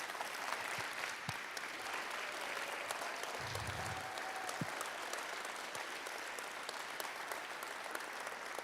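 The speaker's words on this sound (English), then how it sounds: "I think both of these groups of seniors deserve a huge round of applause on their impact." Audience applause for the seniors at a state championship celebration, a continuous, even wash of clapping from a large crowd with no pause throughout.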